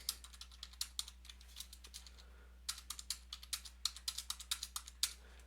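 Rapid bursts of typing on a computer keyboard while entering data into Google Sheets, close and quiet, with clustered key clicks separated by a brief pause, no talking.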